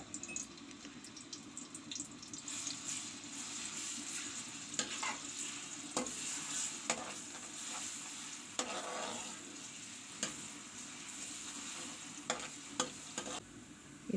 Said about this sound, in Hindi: ऑयल में अब लहसुन और अदरक का पेस्ट डाल देंगे जब तक पेस्ट हल्का ब्राउन होता